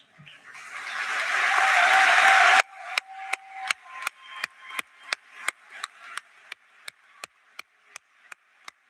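A high school graduation audience applauds the cum laude honor students, a dense swell of clapping for about two and a half seconds, then breaking into slow, evenly spaced rhythmic claps that carry on to the end.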